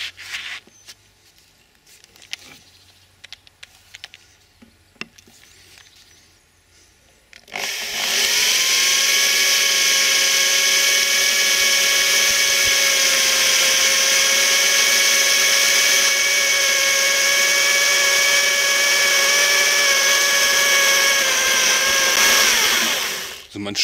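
A power drill bores a hole through a ceramic baking dish being turned into a bonsai pot: after a quiet stretch of small handling knocks, a loud, steady, high grinding whine starts and runs without pause to the end.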